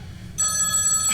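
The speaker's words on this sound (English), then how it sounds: "I won't even if it goes on ringing all night." A telephone bell starts ringing partway through, loud and close, during a staged drama-class performance of the radio play Sorry, Wrong Number, with a sustained metallic ring over a quiet room.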